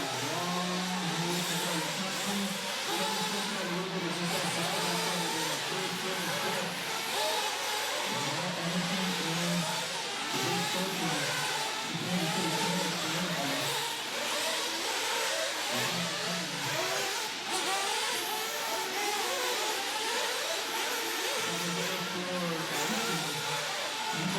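1/8 scale Tekno RC cars racing on an indoor track, a continuous dense buzz of small high-revving engines rising and falling as cars pass, loud and constant throughout.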